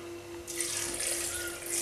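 Cold water pours steadily into a blender jar for a tiger-nut drink, a bright, close splashing stream that starts about halfway through and keeps going with no voices.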